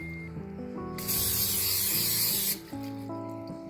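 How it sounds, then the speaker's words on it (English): Cooking oil sprays from a can into a 9x5 bread pan in one steady hiss lasting about a second and a half, close and loud over soft background music. "Now, oil your 9x5 pan."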